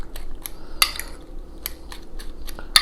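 Fork beating an onion omelette mixture in a bowl, a quick run of sharp metallic clinks against the bowl at irregular intervals, close and clear with no talk.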